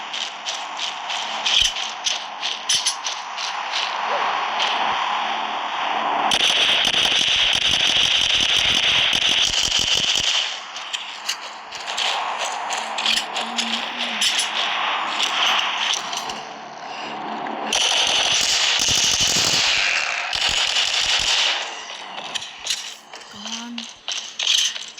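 Rapid gunfire crackles in bursts of loud popping and rattling from the zombie shooter The Walking Zombie 2, interleaved with stretches of steady game noise, while someone speaks over the action.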